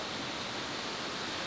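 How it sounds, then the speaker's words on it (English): Waterfall beside a canoe portage trail on a rainy spring day, producing a steady, dense, broadband rush of falling water, loud and close, with no voices. "I thought I'd get the big camera out and get some footage of this waterfall"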